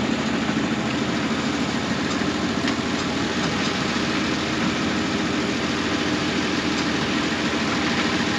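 A tractor engine idles steadily during a soybean and corn harvest, with a constant low, rumbling drone that stays close and even throughout, no voices.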